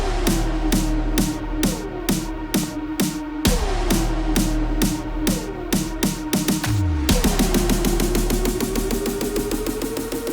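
A simple big room psytrance synth build-up made in FL Studio, with a steady pulsing bassline and rapid repeated hits that speed up toward the end, washed in growing automated reverb.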